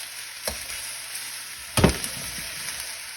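Udon noodles, chicken and bok choy stir-frying in a pan, a soft steady sizzle broken by two sharp clattering stirs, the second louder and followed by scraping, with no talking.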